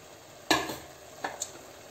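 Vegetables are added and stirred into sizzling pav bhaji masala in a pan, giving two short clattering scrapes over a soft background sizzle. They are close, with no talk.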